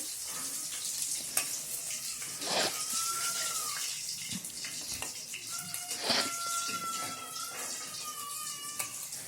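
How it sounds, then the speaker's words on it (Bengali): Pieces of soft fish fry in hot oil in a wok, a steady crackling sizzle with scattered pops and scrapes, plus occasional clinks and faint tonal squeaks from the pan. "প্রত্যেকটি মাছের টুকরো খুব সুন্দরভাবে ভাজা হয়ে গেছে"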